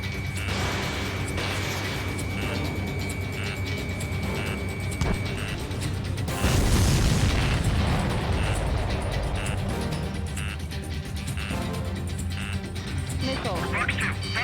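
Missile explosions and combat noise in the Ace Combat 7 video game, with a dense, steady roar, a heavier burst near the middle and warning tones, under a player's talk.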